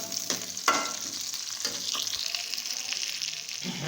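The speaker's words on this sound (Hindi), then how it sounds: "प्याज को गोल्डन कलर आने तक हम फ्राई करेंगे प्याज।" Onions fry in ghee, the oil sizzling steadily with a hissing crackle, broken by a few clattering stirs and scrapes of a utensil in the pan; no one speaks.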